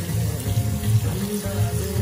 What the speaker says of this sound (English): when you're making fried rice, mm-hmm. you just put a little water in it and you wash the rice out.